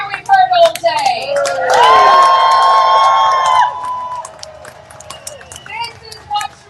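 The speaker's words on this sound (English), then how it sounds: "give our young speakers the biggest cheer we've heard all day" A large outdoor protest crowd cheers and shouts for young speakers, a loud swell of whoops and high-pitched yells with clapping that peaks and then fades into scattered calls and chatter.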